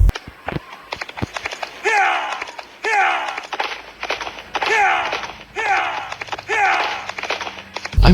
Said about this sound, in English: For example, the sound of a horse galloping.